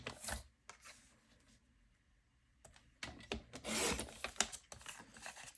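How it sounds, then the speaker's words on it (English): Scissors or a cutter slice paper into two-inch strips in short rustling, scraping bursts, with quiet gaps between cuts and a denser flurry of crisp paper sounds toward the end. "turn it the other way, and you're going to cut 3 2-inch strips"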